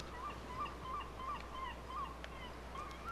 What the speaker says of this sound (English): Buoys out there, some seagulls flying around.